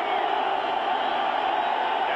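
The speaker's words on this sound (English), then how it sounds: "the crowd urging the Jet defensive unit on" A stadium crowd at a 1991 New York Jets home game against Miami roars steadily for the Jets defense, a sustained distant mass of cheering with no break.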